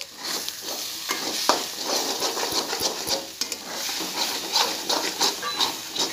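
Egg bhurji sizzling in a pan while a spatula stirs it, with a close, continuous hiss and fry broken by frequent scraping strokes, and no talk.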